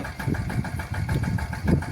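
A heavy tractor engine chugs steadily at idle close by, with a low rhythmic knocking pulse throughout.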